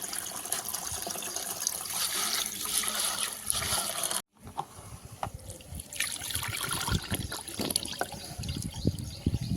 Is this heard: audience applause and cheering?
no